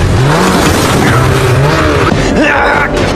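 A snowmobile in a film scene roars steadily and loudly through the whole stretch, its engine pitch sliding up and down, with no one speaking.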